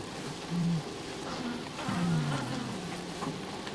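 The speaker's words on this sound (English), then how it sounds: "The bees have regrouped around the damaged combs, presenting a formidable defense against another attack." Swarm of honey bees massed around damaged combs after a honey badger raid, giving a steady close insect buzz with a few rising and falling drones standing out, no talking.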